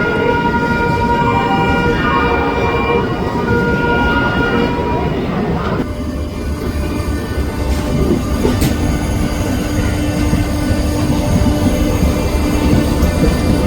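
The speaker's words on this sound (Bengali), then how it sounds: "ট্রেন আমাদের ছেড়ে দিল হাওড়া জংশন।" Shantiniketan Express pulling out of Howrah Junction, a steady loud rumble of train wheels and carriages running continuously throughout, with a brief high squeal near the middle and faint background voices.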